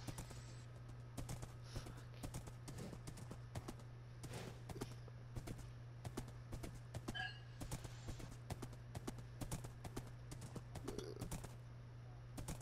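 Horse hooves clip-clop steadily in Minecraft, a quiet, regular patter of clicks repeating throughout over a constant low hum, with faint scattered taps mixed in.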